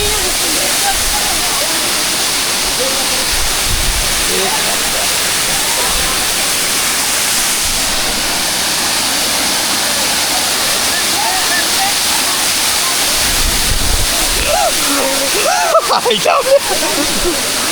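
A hidden waterfall roars in a steady, loud, unbroken rush of falling water, with voices talking faintly over it toward the end.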